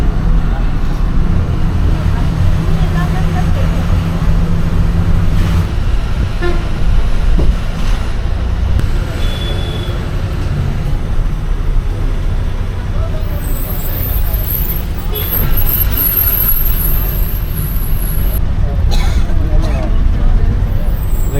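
An SETC interstate bus pulls away with a steady low engine rumble and broad road noise throughout, a brief horn toot and some higher whine later on, while people talk faintly inside.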